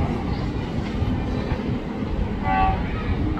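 A ten-car KRL Commuter Line train rolls along track 1 at Kranji station with a steady, loud rumble and rail noise, and a brief horn-like tone sounds near the end.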